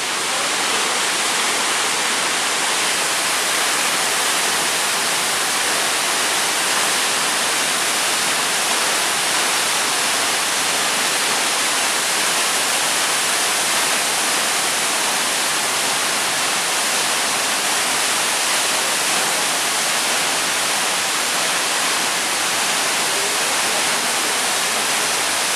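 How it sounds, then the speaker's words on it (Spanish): A powerful waterfall about 40 metres high, the Salto de San Antón in Cuernavaca, Mexico, roars continuously, a loud, dense, unbroken rush of falling water with no other sounds. "El Salto de San Antón es una caída de agua de aproximadamente 40 metros de altura"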